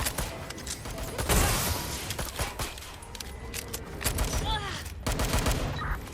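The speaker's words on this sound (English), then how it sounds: "We have gunfire!" Rapid bursts of video game gunfire from Watch Dogs: Legion crackle with metallic clatter throughout, dense and loud, with brief voice fragments mixed in.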